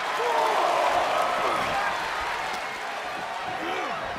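A wrestling arena crowd in WWE 2K24 roars and cheers in a broad, continuous wash of noise that swells early and then eases, with a commentator talking over it.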